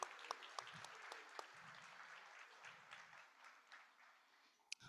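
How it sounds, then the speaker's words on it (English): Audience applause for a choir at a democracy summit in Dayton, Ohio; scattered, fairly faint clapping from a crowd, with sharper individual claps standing out and a brief murmur of voices. "Let's keep clapping for the World House Choir."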